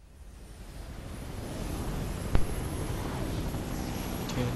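Helicopter flying in the video game Resident Evil Code Veronica X, a steady broad whooshing rotor and engine roar that swells gradually and holds, with a single sharp thump midway.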